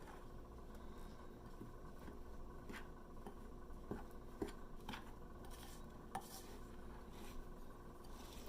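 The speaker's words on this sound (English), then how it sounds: "Eventually I will take this out and mix it with my hands, but we'll get it incorporated using the spoon first" Gluten-free bagel dough being mixed with a spoon in a bowl, giving a steady scraping and stirring texture with occasional sharper clinks of spoon against the bowl, close and moderately quiet.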